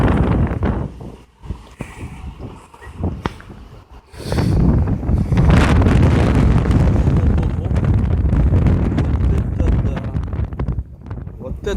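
Strong gusting wind buffets the microphone on a street lined with chestnut trees in Bendery, heavy rumbling bursts that swell and ease, with someone talking in between.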